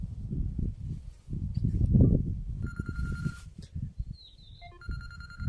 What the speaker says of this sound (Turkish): Benim telefon çalıyor